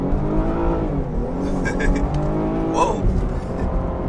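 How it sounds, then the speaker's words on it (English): A Chevrolet Blazer RS engine revs hard under acceleration, a rising, close and loud drone with shifting pitch. A man exclaims briefly partway through. "Kind of got to rev it out a little bit to pick up speed."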